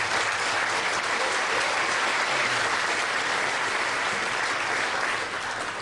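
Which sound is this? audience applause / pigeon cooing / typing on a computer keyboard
audience applause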